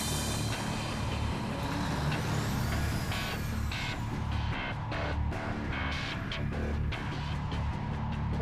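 A blue-cab heavy-duty truck fitted with low rolling resistance tyres rolls steadily past, with a continuous road and engine rumble and a few hissing air-brake bursts, fairly close.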